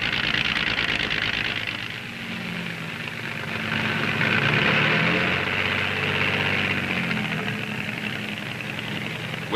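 A tailless flying-wing aircraft with two 120-horsepower Franklin air-cooled engines drives pusher propellers through long extension shafts. It gives a steady, loud engine and propeller drone that swells slightly midway and continues without voices.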